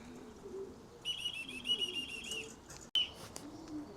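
Wood pigeon cooing in hot weather near racing pigeons, a soft low repeated coo under steadier high chirps, with brief bright calls from other birds.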